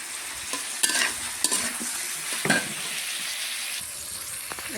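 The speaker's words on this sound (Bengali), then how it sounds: "এই দেখেন আলু পটল ভাজা ভাজা হয়ে গিয়েছে।" Potatoes and pointed gourd fry in a pan with a steady broadband sizzle, broken by a few sharp scrapes and clinks of stirring; close, moderately loud, with no talking.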